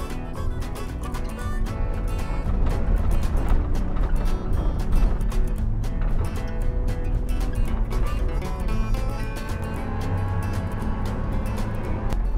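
An old vehicle driving on Route 66 in Tulsa, Oklahoma, with a loud continuous engine and road rumble and rattling, steady throughout.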